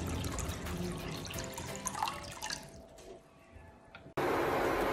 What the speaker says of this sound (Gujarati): એમાં આપણે 5 કપ જેટલું પાણી નાખીશું.